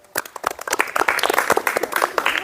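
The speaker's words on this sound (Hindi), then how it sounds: "लिए भी ताली बजाइए।" Group of children clapping in a classroom life-skills session, a loud burst of uneven, overlapping hand claps that starts after a brief quiet and keeps going.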